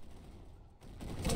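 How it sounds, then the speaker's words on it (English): Continuous rumbling explosions and gunfire-like bursts in the game Ancient Warfare 3, growing louder and denser toward the end. "Ooh, there's so many explosions."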